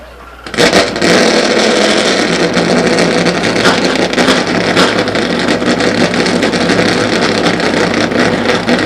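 Race car engines firing up at Stockton 99 Speedway: a sudden loud roar that holds steady and rumbling, several engines blending into one continuous close drone.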